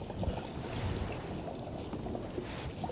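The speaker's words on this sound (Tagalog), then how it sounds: "Malakas pa yung hangin." Steady wind buffeting outdoors near water at Cowes, Australia, a constant low rush and rumble with no voices, fairly faint.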